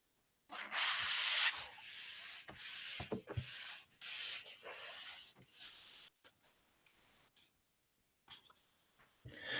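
An eraser rubs out writing on a paper page in quick scratchy bursts of strokes separated by short pauses, close and fairly soft, with no talk.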